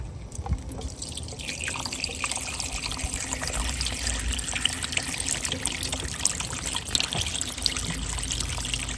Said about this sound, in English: You can see how that water makes a much smoother transition into this long-turn 90 compared to that rotating fitting